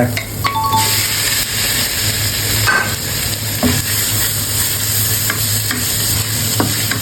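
Chopped frog meat sizzles steadily as it is stir-fried with curry paste in a wok, with occasional scrapes and clinks of a utensil against the pan.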